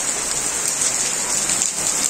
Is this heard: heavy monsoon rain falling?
yes